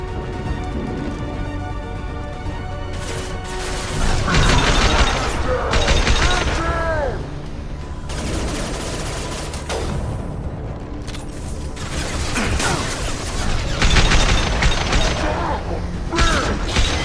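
Gunfire in the Mass Effect 2 video game comes in loud bursts of rapid shots with mechanical clatter and impacts, separated by short lulls, over a constant game backdrop.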